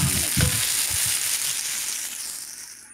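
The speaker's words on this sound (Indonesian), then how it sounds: "Cabenya kita goreng terlebih dahulu." Chili peppers and shrimp paste fry for sambal terasi, giving a loud, steady close-up sizzle of hot oil with a few brief stirring knocks early on that fade to a softer hiss.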